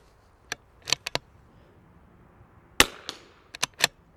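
Rifle shots fired while zeroing a Bushnell Match Pro ED scope at 50 yards: several sharp, loud cracks spaced irregularly across a few seconds, each a brief broadband snap with a short decay, one noticeably stronger and ringing longer.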